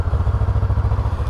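A Fekon Glider 500s cruiser motorcycle engine idles with a deep, bassy, rhythmic thumping pulse, loud and close, with no talk over it.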